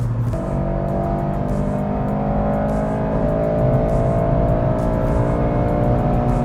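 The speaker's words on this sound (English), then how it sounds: "Dude, for stock engine, it's a good little noise." A stock-engine Honda Civic, either an FL5 Type R or an 8th-gen Civic Si, hums with a steady engine drone that rises slowly in pitch as it builds revs, loud and close, with a faint intermittent ticking above it.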